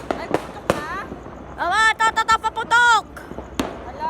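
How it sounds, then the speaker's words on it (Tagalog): Firecrackers set off for New Year celebrations in the Philippines crack in a few sharp bursts, while excited voices shout and cheer loudly over them. "Paputok! Paputok, paputok!"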